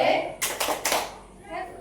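Schoolchildren clap the 'tepuk wow' rhythm as a classroom ice-breaker: three quick, sharp bursts of clapping close by, with a voice briefly before and after.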